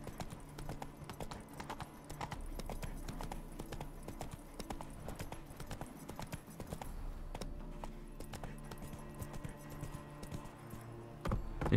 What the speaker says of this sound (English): Come on, Roach. Up there.